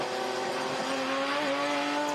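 A touring race car at a Touring Car Masters race at Winton downshifts from fourth to second, its engine note dropping through the gears. The roar is steady and fairly close, and no voices are heard.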